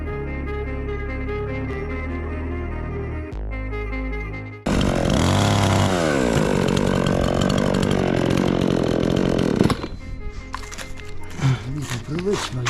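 A power saw cuts through a wooden beam during construction work, a loud, steady whining roar lasting several seconds and then stopping, with people talking before and after.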